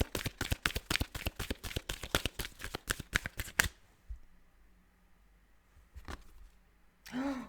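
Tarot cards are shuffled in a quick, crisp rhythmic riffle of about two dozen snaps, followed by quieter handling, a single card slap and a brief voice at the end.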